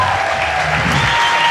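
Continuous, full-room applause from a dinner celebration crowd, loud and even from start to finish with no break.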